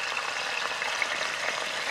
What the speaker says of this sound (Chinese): 现在准备先把牛肉下锅